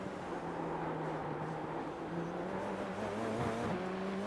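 A Radical SR10 race car in iRacing at Detroit Belle Isle accelerates in second gear, its engine note climbing steadily, heard at a moderate, even level with no talking.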